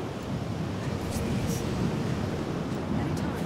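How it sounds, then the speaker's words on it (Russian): Wind blows through the Dragon's Dogma 2 game world as a steady, dense rushing roar, evenly loud and unbroken for the whole stretch, with no clear voices on top. "Да, реально ветер."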